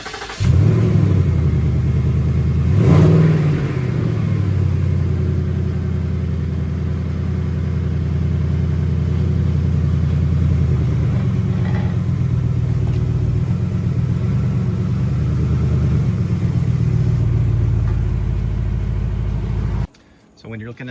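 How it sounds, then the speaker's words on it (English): A 2018 Mustang GT creeps forward onto car ramps, its V8 rumbling low and steady at near idle with a slight surge early on, then cutting out abruptly near the end. "we're going to go ahead and pull the car up on our ramps and get started"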